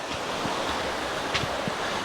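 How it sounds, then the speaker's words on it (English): Outdoor water rush from a river flowing below a bridge on a forest walk in Minoo Park, Japan, heard as a steady broadband wash with some wind, moderately loud and continuous, no talking. "There's the river"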